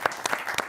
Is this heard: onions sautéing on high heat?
no